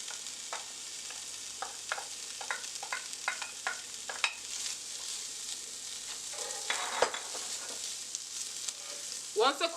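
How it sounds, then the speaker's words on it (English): Fresh corn kernels frying in a pan with butter and crushed garlic, giving a steady close sizzle throughout, broken by a run of regular stirring scrapes and a louder clatter near the end. "And now I'm going to add the corn in there."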